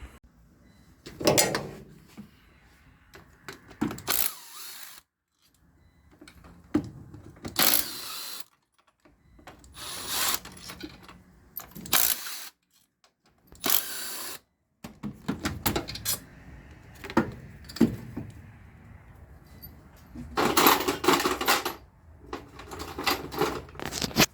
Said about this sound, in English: let me pull this throttle body off so we can get a better visual representation